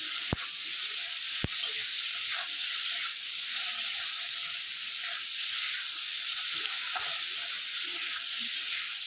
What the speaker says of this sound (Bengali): তো চলো এটাকে ভাজা ভাজা করে নিই, আলুটা সেদ্ধ হবে, তারপর দিয়ে মাছ